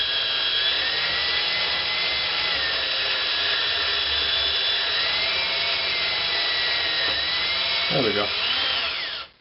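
A power drill bores steadily through metal during a Princeton 112 Plus amplifier repair, a loud continuous whine that shifts slightly in pitch as the bit breaks through near the end, then stops; a voice speaks briefly.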